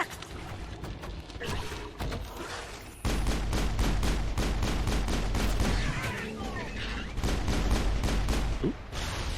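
Sustained automatic gunfire during a battle against Batarians in the Mass Effect video game, dense rapid shots that grow louder partway through and continue as a steady barrage, with brief game voices mixed in.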